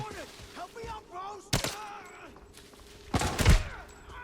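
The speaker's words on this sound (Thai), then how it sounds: "เนี่ยมันยิงกับใครวะ ชาบอทจะยิงกับใครอะยิงกับมนุษย์เหรอ" Gunfire from bots in the video game Arena Breakout, two sharp loud bursts of shots with a quieter talking voice between them.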